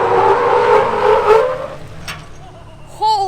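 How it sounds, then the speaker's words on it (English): Tires squeal on a Jeep Wrangler Rubicon (JLU) braking hard from 50 mph in a stopping test: a loud, broad screech of rubber that fades over a couple of seconds, with a brief voice near the end. "the tire squealing was Todd's Rubicon"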